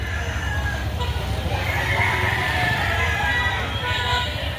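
Roosters crow and hens cluck at a gamecock sale behind a mall in Lipa City, Batangas, several birds calling loudly and close over crowd chatter and background voices.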